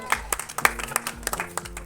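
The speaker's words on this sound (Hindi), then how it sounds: "इनके लिए जोरदार तालियां हो" Audience at an anniversary award ceremony clapping as an honoree is asked to take her seat on stage, a short burst of close, uneven claps with a few sharper peaks.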